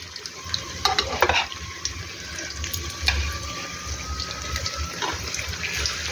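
Khasta kachori frying slowly in oil over low heat, a steady soft bubbling sizzle broken by a few light clinks, with no talking.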